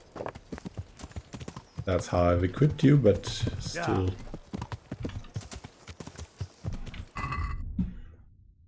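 Horse hooves clip-clop on ground in the Kingdom Come: Deliverance video game near a castle, the footfalls steady beneath a voice talking over most of the stretch.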